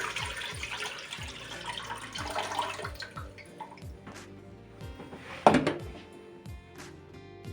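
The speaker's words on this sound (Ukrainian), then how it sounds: "вилити з усіх баночок нашу водичку, назад у кастрюлю" Water splashes and trickles in short bursts as brine is poured from glass jars back into a metal pot, with clinks of glass against the pot and one louder knock.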